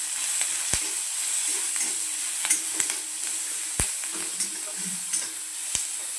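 Chopped onion sizzling in hot oil in a kadhai, a steady close frying hiss broken by sharp clinks of a spoon stirring against the metal pan.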